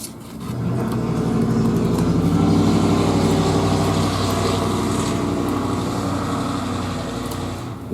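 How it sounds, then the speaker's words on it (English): A very loud truck passes outside, a deep, rumbling engine roar swelling to a peak mid-way and easing off slightly, sustained throughout with no speech. "It's like the loudest truck ever."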